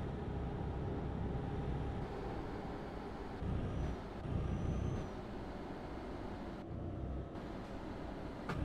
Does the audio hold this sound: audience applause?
no